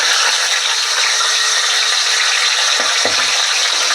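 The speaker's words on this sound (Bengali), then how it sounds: "এবার এই গরম তেলের মধ্যে আমি মাছটা কড়া কড়া করে ভেজে নেব।" Fish fries in hot mustard oil in a wok, a loud, continuous close sizzle with a couple of brief low knocks near the end.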